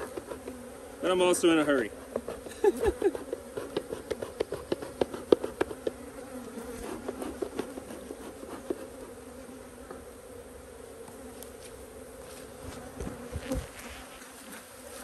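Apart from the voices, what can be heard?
honeybees buzzing around a hive box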